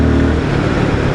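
A Royal Enfield Guerrilla 450 motorcycle under a light throttle crack, a loud, steady engine drone with a brief swell, heard up close while riding.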